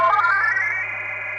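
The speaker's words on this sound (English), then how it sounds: "the delay echoes are getting louder and louder, because feedback is past 12 o'clock" Delay echoes on an Elektron Digitone synth with feedback turned up past halfway, a bright repeating tone smearing into a sustained wash that swells early and slowly thins, heard alone and fairly loud.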